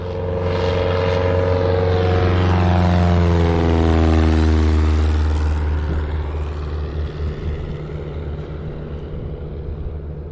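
A STOL propeller airplane flying low at a Lone Star STOL event in Gainesville, Texas, its engine drone loud and steady, swelling as it nears and then easing off, with the pitch sliding downward as it passes.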